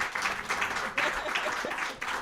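Small audience clapping at a live studio music session, uneven bursts of applause that swell and dip, with a few faint voices mixed in.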